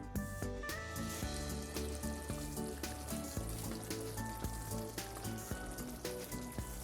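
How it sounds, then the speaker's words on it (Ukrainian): Steady sizzling of onion frying in a pan, crackling and spitting continuously at close range with no talking. "Поки цибуля обжарюється"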